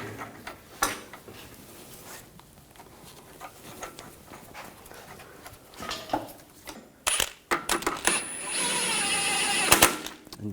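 A bolt is tapped into the front upper control arm of a 2004–2009 Audi A4 Quattro, giving several sharp metallic knocks in a garage, the hits grouping into a quick cluster near the end over low background noise.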